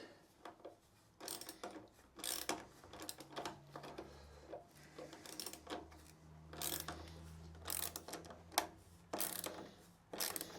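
Ratchet wrench with a 10mm socket tightens the clamp on a Sharon exhaust fitted to a KTM 890 Adventure R motorcycle, making close, quick ratcheting clicks in repeated short bursts with pauses between strokes.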